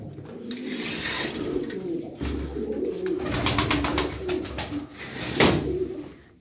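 Pigeons coo softly and repeatedly nearby, with wing flutters and a few rustling knocks mixed into the background.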